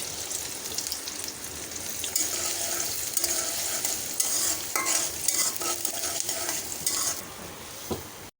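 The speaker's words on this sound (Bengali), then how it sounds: "তেল গরম হয়ে গেছে দিয়ে দিচ্ছি মেথি দিয়ে দিচ্ছি গরম মশলা দিয়ে দিচ্ছি পেঁয়াজ কাঁচামরিচ" Fenugreek, garam masala, onion and green chili fry in hot oil in a kadai, giving a steady, close sizzle with stirring scrapes throughout and no voices.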